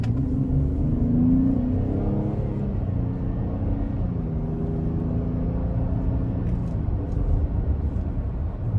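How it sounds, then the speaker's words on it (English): Engine of a 2021 Chevrolet Traverse High Country AWD with a 9-speed transmission revving under throttle, a steady close rumble from inside the cabin with pitch rising and shifting as it accelerates. "We're just gonna give it a little throttle here."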